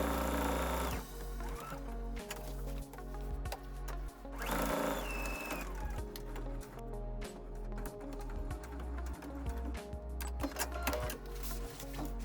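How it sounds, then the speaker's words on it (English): Sewing machine stitching pockets onto a tote bag, a steady mechanical whir running alone through most of the stretch with short pauses and restarts. "So now we have sewn the pockets onto the bag"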